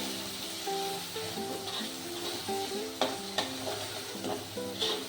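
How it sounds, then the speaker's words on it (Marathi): Masala and curry leaves frying in oil in a pan for ganga phal bhaji, stirred steadily; a close, continuous sizzle with scraping spoon strokes and a faint tonal hum in the background. "मस्त असं तेल सुटेपर्यंत थोडा मसाला आपण ढवळून घेऊ"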